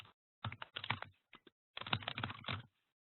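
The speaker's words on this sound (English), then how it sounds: "I'm going to type in Swedish today." Bursts of rapid typing on a computer keyboard, with quick clicking keystrokes separated by short pauses, recorded up close.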